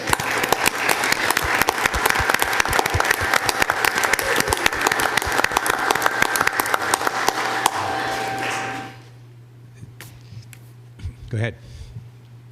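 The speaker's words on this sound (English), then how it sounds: "Will you all recognize tonight and give Kathy a round of applause for her 35 years of service?" Town meeting audience applauding at a deliberative session, dense steady clapping from a room of people for about eight seconds, then a quieter room with a low hum and a few small knocks.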